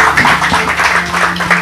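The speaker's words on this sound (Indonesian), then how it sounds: "Tepuk tangan dong." A congregation claps hands during a church sermon, with rhythmic bursts of clapping over a low steady hum, fairly loud and close, with no speech over it.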